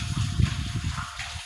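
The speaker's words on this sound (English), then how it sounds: "this is our borehole here, and you can hear some water from inside there" Water gushing and trickling inside a borehole, a low rumbling churn with faint hiss, heard up close and fairly steady with slight surges, without speech.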